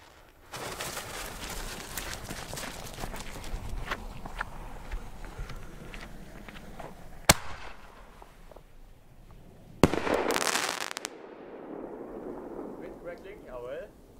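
Fireworks go off outdoors: a string of crackling bursts and pops runs for several seconds, then two sharp, loud bangs land a few seconds apart, the second followed by a burst of crackle, and people talk nearby.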